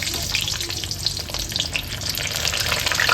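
Four or five garlic cloves and three green chillies fry in hot oil for a fish curry, giving a steady, close, dense sizzle with crackling spatter throughout and no voices.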